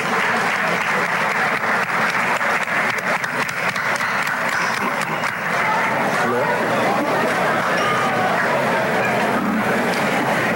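Sustained applause from a large crowd, steady and dense clapping filling the whole stretch with a faint murmur of voices underneath.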